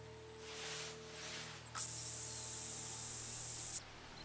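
A scent-eliminator spray is sprayed in theHunter: Call of the Wild, giving one steady, fairly loud hiss of about two seconds that stops abruptly. It sounds over soft rain-like background noise, and no one speaks.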